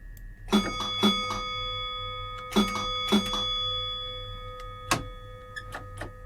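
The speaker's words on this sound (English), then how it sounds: "Quite like that bell sound, that's quite good." In the Train Simulator 2020 video game, a train bell strikes in bright metallic clangs, singly and in pairs, over a low steady cab hum.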